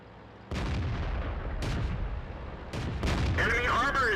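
Tank cannon fire in World of Tanks on the Himmelsdorf map, several sharp booming shots a second or so apart over a low battle rumble, with a voice speaking briefly at the end.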